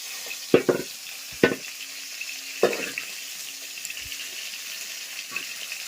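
Fish head frying in a pan gives a soft, low background sizzle, broken by a few sharp clatters and scrapes of stirring.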